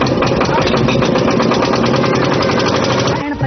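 A generator engine running steadily at close range, a loud continuous rumbling drone that cuts off near the end, with a voice speaking over it.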